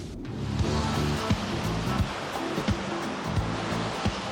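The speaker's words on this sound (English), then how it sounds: "This is where the river flows into the sea." Fresh water rushes steadily where a river flows into the sea, a continuous broadband roar of surf and current with slight surges, close and fairly loud, with no talking.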